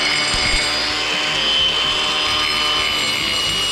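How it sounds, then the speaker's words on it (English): A grinder fitted with a diamond wheel grinds off tile, making a loud, steady, continuous abrasive whine with no break and no talking. "The diamond wheel on a grinder."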